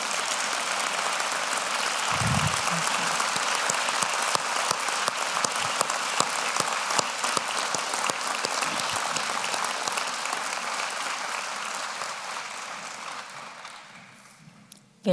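Gala audience at an awards dinner applauding for a long stretch, a dense and even clatter of many hands that gradually thins and fades out near the end, with a low thump early on.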